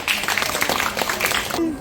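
Students applaud in a school classroom, a short burst of quick clapping from a group, close and moderately loud, ending abruptly with a voice starting to speak.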